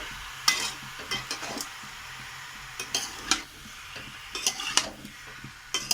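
Star fruit pickle with chili powder fries in a pan under a quiet background sizzle, broken by irregular clinks and scrapes of a spoon stirring against the metal.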